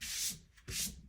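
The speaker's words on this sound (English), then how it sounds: "we got those sanded" Sandpaper rubs quickly back and forth over small model rocket parts, producing two or three short, close, raspy strokes.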